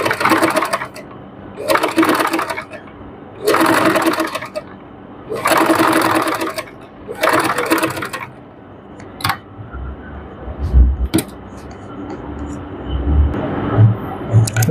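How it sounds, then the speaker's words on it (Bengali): A sewing machine stitching a narrow seam along a frock's neck edge runs in five loud, evenly spaced bursts, then gives way to scattered clicks and handling noise. "চিকন করে একটা চাপ সেলাই দিয়ে নিব।"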